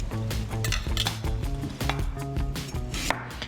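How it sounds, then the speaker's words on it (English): Knife slicing through a knob of fresh ginger on a board during curry prep, with quick repeated cuts and light utensil clinks close by, steady and alone. "While that's heating up, I'm gonna slice a little bit of ginger up."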